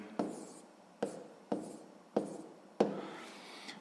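Pen or pencil strokes write down a math answer for a sixth-grade percentage exercise, five short scratchy taps and scrawls in an uneven rhythm, close and quiet with no talk.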